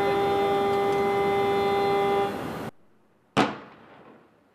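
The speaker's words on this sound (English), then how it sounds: "That was the sound of ATF agents setting off their own explosive device designed to dismantle the tripwire" ATF agents detonate an explosive device to dismantle a tripwire at an apartment in Aurora, Colorado: a sharp, loud single blast rings out after a steady tone cuts off, then decays quickly.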